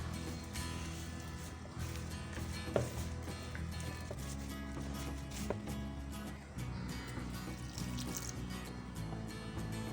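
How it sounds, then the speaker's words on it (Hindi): Water trickling and splashing softly into a bowl of gulgula batter flour, a faint continuous pour with small drips and clinks, fairly quiet. "इसमें मैं थोड़ा थोड़ा पानी डाल के इसका"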